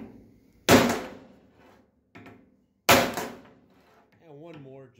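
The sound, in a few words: hammer striking crimping tool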